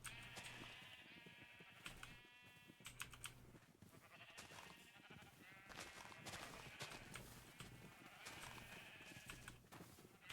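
Video-game sheep bleat again and again in a steady flock chorus, fairly loud and close, with soft keyboard typing clicking underneath and no talking.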